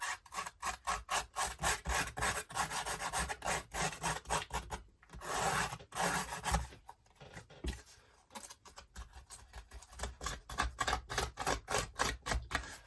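Scissor blades scuffing and scraping across an art journal page to distress it, making close, rapid rhythmic rasping strokes in bursts with a few short pauses, no speech.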